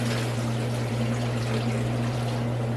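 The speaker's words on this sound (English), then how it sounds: "And as I put water on it" Water pours steadily from a tap into a stock pot on a stovetop, a close, constant rushing stream with a low hum underneath and no talking.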